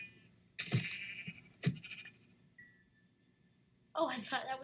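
Sheep bleating in the video game Minecraft, two short bleats near the start followed by a person speaking in a livelier burst near the end.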